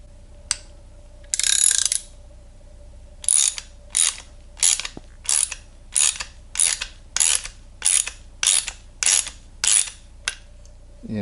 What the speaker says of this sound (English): so it doesn't look like there's threads in here, so you're making your threads as you go in